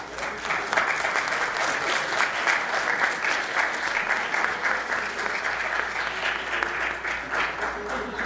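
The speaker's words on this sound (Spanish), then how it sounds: "Fuerte aplauso para el suertudo" Loud, sustained applause from an awards ceremony crowd during a prize draw, dense and continuous clapping throughout with no pauses.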